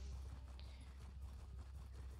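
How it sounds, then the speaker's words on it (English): Horse hooves clip-clop at a steady walking rhythm in Elder Scrolls Online, faint and low beneath a constant background hum. "Hop on the horse and go this way to the way shrine."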